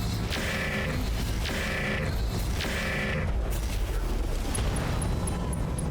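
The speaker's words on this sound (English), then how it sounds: "Coolant pod explosion." Coolant pod explosion during a mech battle in the BattleTech RogueTech game, heard as a few deep rumbling booms in a row over a continuous low roar of battle noise.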